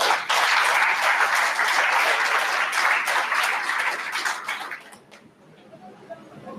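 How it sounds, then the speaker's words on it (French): At a church solemnity, the congregation breaks into sustained applause, dense and steady for about five seconds before tapering off into quiet room sound. "Applaudissements."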